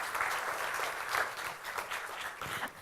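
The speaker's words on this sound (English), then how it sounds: "Okay, anyway, applause." Audience at a startup pitch competition semifinal gives a sustained round of applause, moderately loud and even throughout, ending with a sudden louder knock.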